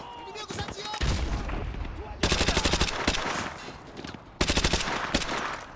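Automatic gunfire in Call of Duty Modern Warfare 2: loud, rapid bursts of shots, with two long sustained volleys standing out between rougher stretches of combat noise, and no one talking over it.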